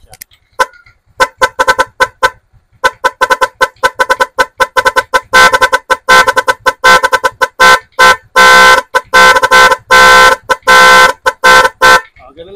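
A Motorstar Easy Ride 125 scooter's Nipro Music horn plays a rapid series of loud, sharp tooting blasts in a melodic pattern, choppy at first and then in longer runs of bursts, very close.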